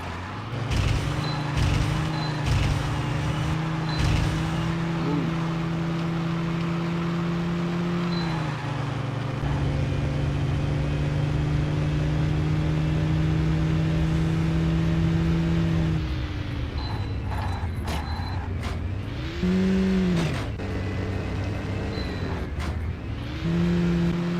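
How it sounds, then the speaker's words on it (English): Synthetic car engine drones and revs from the video game Crashday, shifting pitch as gears change, with abrupt clicks and tone jumps; loud and continuous, no talking. "Car sounds are okay, they are not that greatly programmed."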